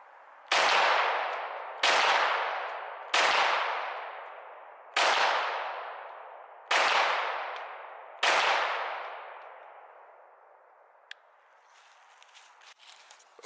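Six sharp, loud gunshots from an M17 pistol ring out one by one at a range, spaced roughly one to two seconds apart, each followed by a long decaying echo, then quieter faint clatter.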